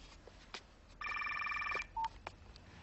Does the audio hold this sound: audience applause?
no